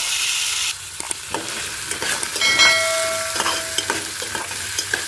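Mustard seeds, cumin, urad dal, dried red chillies and curry leaves sizzle in hot oil for a chickpea tempering, a steady close crackle with scattered pops and faint stirring, no talk.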